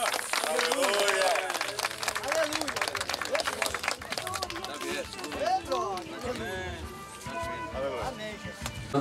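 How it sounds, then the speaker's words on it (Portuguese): Church congregation in Bela Vista applauding during a worship service, a dense burst of clapping that gradually thins out, with a voice speaking over it. "Uma salva de palmas para Jesus"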